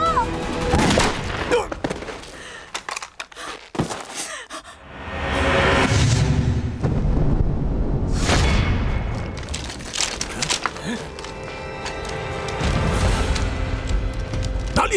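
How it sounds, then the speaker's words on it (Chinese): Gunfire in a wartime resistance battle scene crackles and booms through dense, chaotic noise, with sharp reports early on and a sustained roar later, mixed with faint voices. "枪声在后面。"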